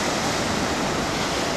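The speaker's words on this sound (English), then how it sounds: "the waves are beating up against the shore" Ocean waves crash and surge against the shore below an Alaskan cruise ship, a loud, continuous broadband wash of surf and spray with no pauses and no voices.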